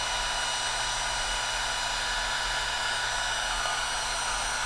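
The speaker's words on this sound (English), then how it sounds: "we bring in our handy heat gun, and I'm going to use this to warm up the tube" A heat gun warms plastic tubing for a flexible LED brake and turn signal, blowing a steady, unbroken, close airy whir throughout.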